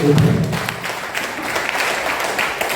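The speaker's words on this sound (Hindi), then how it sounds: "मैं चाहता हूं जोरदार तालियों के सम्मान में" Audience applause at a poetry recitation event in Gola Gokarannath, Lakhimpur Kheri, a broad steady wash of clapping with a low thump at the start, filling the whole stretch at even loudness.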